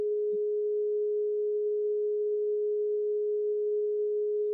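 A steady electronic tone plays through a speaker in a science class demonstration: one loud, unchanging pure pitch that holds without a break from start to finish, with nothing else audible.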